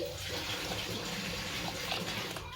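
Lentils being washed in a home kitchen while tap water runs steadily into a vessel, giving a close, continuous splashing gush with small sloshes and no talking.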